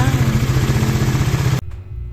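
A Honda RS 150 motorcycle engine runs with a loud, steady, rapid thumping idle close by, then abruptly cuts out as the engine dies, leaving near silence with a faint clatter.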